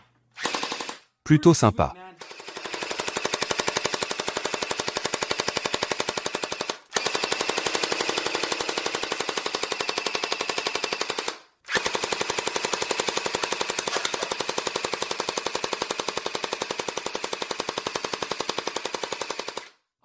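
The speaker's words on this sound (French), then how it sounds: "Quand il est éteint, il ne tire pas, alors allume-le." An M4 gel blaster fires in long rapid bursts, a dense mechanical rattle of fast shots running for many seconds with brief pauses between strings, loud and close; a voice speaks briefly near the start.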